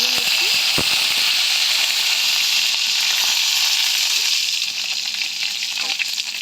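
Mustard seeds, cumin and dried red chillies sputter and crackle in hot oil for a tempering, a dense, continuous close popping sizzle with a few sharper pops near the start.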